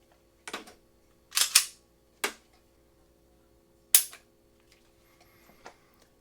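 A firearm trigger snaps several times during a pull-weight test: sharp, isolated clicks spaced irregularly, each breaking crisply with a brief metallic ring, close to the mic over a quiet background hum.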